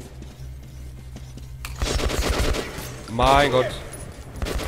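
Bursts of gunfire in the video game Metro 2033 crackle beneath an excited voice, with a loud burst near the middle and a man exclaiming over the shooting.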